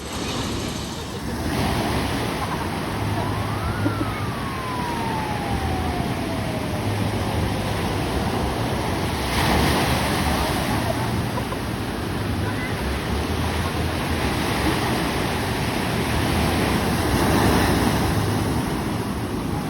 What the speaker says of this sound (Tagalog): Sobrang lakas ng alon.